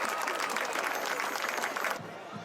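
Crowd applause at a high school football game's halftime for the Miracosta High School Marching Band and Color Guard, a steady broad wash of clapping from the stands that thins abruptly near the end.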